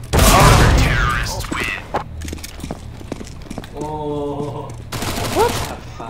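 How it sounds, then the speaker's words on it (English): Gunfire in a CS:GO match, with rapid bursts and single shots, some loud and close, others more distant, mixed with game sound effects and a voice talking briefly over it. "I shoot so many times I didn't headshot."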